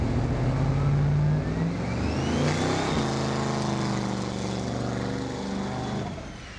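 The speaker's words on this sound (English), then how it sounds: "If there's no rubber down, I would definitely do a much longer burnout." Car engine revving hard during a drag-racing burnout, a loud mid-pitched roar that climbs and holds, then settles into a steady high rev, heard alone without talk.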